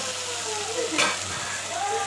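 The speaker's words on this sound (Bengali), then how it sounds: "উচ্ছেটাও আমার এদিকে ভাজা হয়ে এসেছে" Bitter gourd frying in a pan gives a continuous, even sizzle with a brief stirring clatter midway, close and steady throughout.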